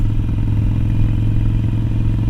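A motorcycle engine drones steadily at cruising speed on the road, a loud, low, continuous rumble with wind noise and no speech.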